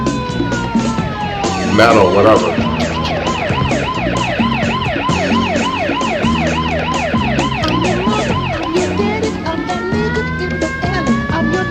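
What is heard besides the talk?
fire truck siren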